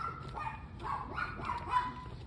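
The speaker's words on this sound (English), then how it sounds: "There's a dog trying to attack me again." A dog barks repeatedly at moderate distance, several sharp yaps and bow-wows in an uneven rhythm over faint background noise.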